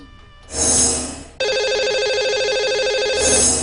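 A telephone rings on a radio call-in line, a loud electronic ring tone that starts, pauses briefly, then sounds steadily and continuously for a couple of seconds without any voices.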